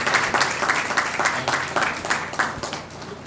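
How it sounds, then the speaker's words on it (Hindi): Guests at a Christian wedding applaud the newly introduced couple, loud, rhythmic clapping that swells and pulses for a few seconds before thinning out. "आप लोग ताली बजा सकते हैं।"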